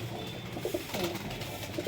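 Male pigeons in a loft coo softly in short, rounded bursts over faint background noise, with no voices.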